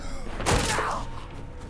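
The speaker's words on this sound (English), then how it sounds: "Is that a grenade? Are you throwing grenades, mate?" A single muffled grenade blast in the 1990s Indiana Jones video game, one dull boom with a brief rumbling tail over steady game background noise.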